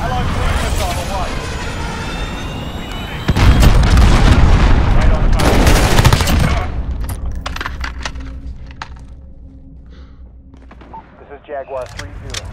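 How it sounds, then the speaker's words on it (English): Cruise missile launch and explosions in Call of Duty Modern Warfare: a loud whooshing roar and booming blasts amid gunfire clatter, then fading rumble, with radio voices talking over it. "Cruise missile, go for launch."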